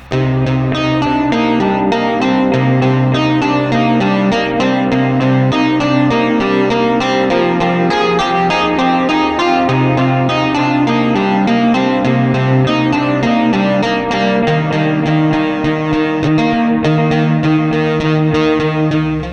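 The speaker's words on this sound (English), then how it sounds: "Distortion. If you ask me, this sounds pretty great, but it's also pretty noisy." A synthesizer played through a Sonicake Pocket Master distortion effect gives a loud, dense, buzzing tone that holds steady throughout, with a noisy, gritty edge and shifting notes, and no voices.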